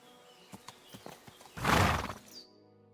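A horse in Kingdom Come: Deliverance II clops a few hooves, then lets out one loud, close neigh of about a second before the sound cuts to near silence.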